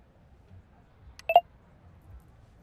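Telephone dialing tones while placing a call: a quick pair of faint, tonal beeps around the middle, near and alone over a quiet background.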